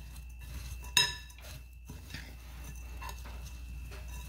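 A utensil stirring a taco hashbrown casserole mixture in a dish, with one sharp metallic clink followed by soft irregular scraping and tapping.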